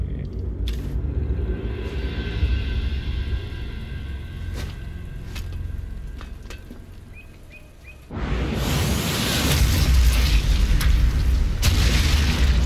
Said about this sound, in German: Zum Abschluss nochmal einen richtigen Böller oben reingeschmissen.